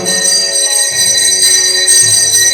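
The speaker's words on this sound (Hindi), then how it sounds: "मंदिर की घंटी बज गई, प्रणाम कर लो।" A temple bell rings loud and close, its bright sustained metallic tone lingering steadily and alone with no voices.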